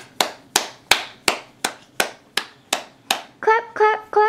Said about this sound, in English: Good clapping. Good clapping.